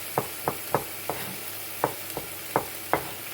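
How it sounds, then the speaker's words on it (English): Vegetables sweating in a pan for Thai prawn soup: a regular series of about eight spoon-against-pan knocks, roughly three per second, over a soft low sizzle, close and with no voices. "the vegetables are partly cooking by the sweating process"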